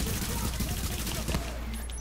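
Rapid, dense bursts of turret gunfire from The Division game crackle close and loud, with sharp repeated cracks throughout and faint talk mixed underneath.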